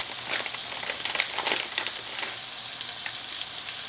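A steak sears in a hot pan for Chaliapin steak don, giving a steady close sizzle with faint crackles throughout.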